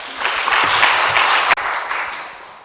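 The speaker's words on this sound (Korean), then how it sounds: "나오실 때 큰 박수로 환영하겠습니다" Audience applause at a church charity concert greeting a worship singer as she comes out, a dense, steady wash of many hands clapping that peaks near the middle and slowly thins toward the end.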